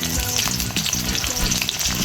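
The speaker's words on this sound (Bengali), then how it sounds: "কড়াতে তেল গরম হয়ে যাচ্ছে, আমি শাক ভাজার জন্য কেটে রাখা পেঁয়াজ ভেজে নেব," Chopped onions fry in hot oil in a wok for a greens dish, giving a dense, steady sizzle with light stirring scrapes, close and loud with no voices.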